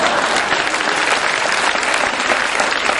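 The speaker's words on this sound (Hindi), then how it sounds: "आपका स्वागत पीछे से तालियां बज करके हो रही है" Audience applause at a Hindi-language religious sermon in Vidisha, with dense, steady clapping filling the hall at close range and no voices on top.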